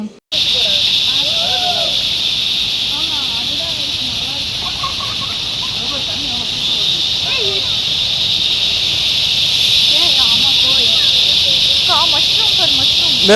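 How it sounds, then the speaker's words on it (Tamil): A loud insect drones in a high, unbroken whine in the forest near Munnar, Kerala, holding steady throughout, while a person talks and bird-like chirps come and go underneath. "காட்டில் வந்து ஒரு பூச்சி சவுண்டு கேட்குதுங்க"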